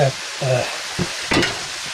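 A spoon stirs dosa batter thinned with milk in a bowl, with a few wet, sloshing strokes and scrapes at an uneven pace, close by and moderately loud, alone and without speech.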